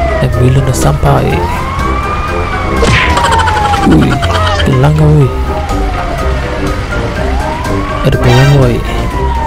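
A wailing ambulance siren in GTA 5 sweeps up and down repeatedly, loud and close, while people chatter excitedly over it.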